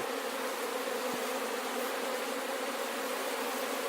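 Honey bees buzz in a dense, continuous drone as they are raked off a can of sugar water during a hive check, close and steady throughout.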